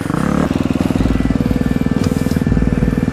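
A dirt bike being ridden at a motocross riding area roars loud and close, its engine pulsing in a fast, steady rhythm after a brief higher rev at the start.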